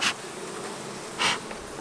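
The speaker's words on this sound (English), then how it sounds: "I'm going to smoke these bees down more than I usually do to get them off of that patty" Honeybees buzz at an open beehive on a hot summer day, a dense continuous drone close by, with a couple of louder passes as individual bees fly near.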